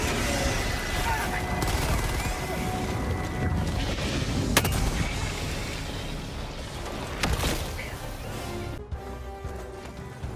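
Heavy shotgun blasts from the Helldivers 2 video game, with sharp booming shots at about 4.5 and 7.3 seconds over a dense, constant backdrop of battle noise and gunfire.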